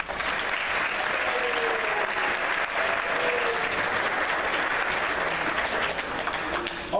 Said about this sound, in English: So a round of applause for Adit.